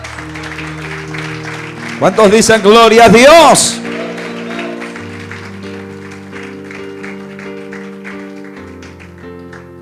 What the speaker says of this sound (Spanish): ¿Cuántos dan un fuerte aplauso al Padre?